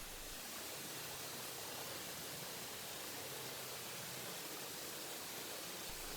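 Lyrebird Dell waterfall in the Blue Mountains of New South Wales, set among sandstone cliffs, pours as a continuous broadband rush of falling water, steady and enveloping with no voices.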